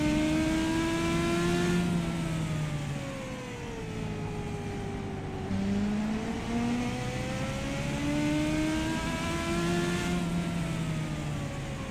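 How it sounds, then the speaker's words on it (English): A Legends race car engine roars steadily in a racing simulation game, its pitch rising and falling through shifts and throttle changes, loud and continuous with no talk. "Get a good sound of that Legends car, man, roaring through your speakers right there."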